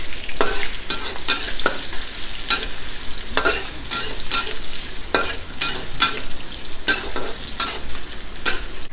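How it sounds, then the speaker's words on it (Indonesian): Onion, ginger and garlic frying in a pan for a simple beef curry, stirred with regular scraping strokes over a loud, continuous close sizzle. "Lepas tu kita masukkan bawang, halia dengan bawang putih yang kita dah iris tadi. Kita kacau sampai dia kuning."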